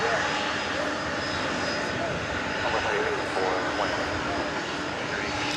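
A Boeing 787-9 Dreamliner jet engine roars steadily at an airport at night, a broad distant rumble sustained throughout, with someone talking faintly over it.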